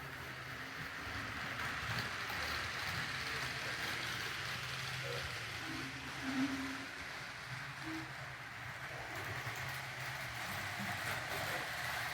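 A BNSF train in a switchyard in Temple, Texas rumbles and clanks steadily at a distance, with faint squeals and metallic knocks rising briefly midway.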